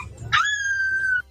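A woman on a train imitates a dog, letting out one loud, drawn-out bark-like yelp that trails into a sustained howl-like tone, with low rumble and faint voices around it.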